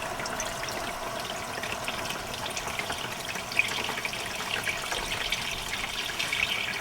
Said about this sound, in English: we're going to have all of the oil draining out here